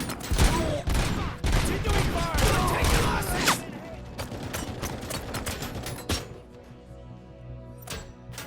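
Sustained gunfire in RoboCop: Rogue City, dense overlapping shots for the first few seconds, then thinner scattered bursts and single cracks over a lower rumble, with brief voices mixed in.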